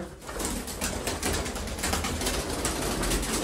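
Sialkoti pigeons coo together in a loft, a steady, low murmuring mixed with dense background noise, heard without talk.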